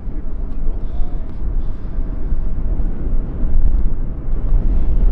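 An EasyJet airliner lands at Schiphol Airport on runway 18R in a crosswind, a loud, continuous low rumble of jet engines with wind buffeting the microphone, heard outdoors at fairly close range.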